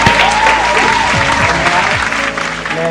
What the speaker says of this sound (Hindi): जोरदार तालियों से स्वागत कीजिए जयदेव जी।